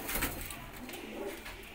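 Pigeons cooing in a loft in Faisalabad, young birds kept for sale, giving soft low coos in a steady murmur with faint chirps over a noisy background.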